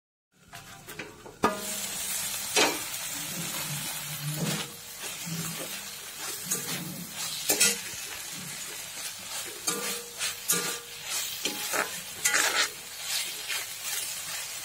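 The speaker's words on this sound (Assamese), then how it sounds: "অলপ ভাজি লৈছোঁ ঢেকীয়াখিনি" Fiddlehead fern and mango fry in a pan, with a steady close sizzle broken by repeated scraping stirs of a spatula, fairly loud and without talk.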